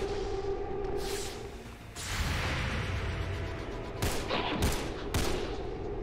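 Gunfire in the tactical video game XCOM 2: a sustained volley of shots with sharp whooshing impacts and several distinct bursts near the end, loud and dense over a rumbling battle backdrop, with no talking.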